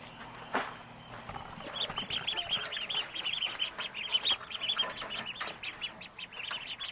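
Several ducks quack nearby in rapid, overlapping bursts that go on steadily, loud and busy, with one sharp knock near the start.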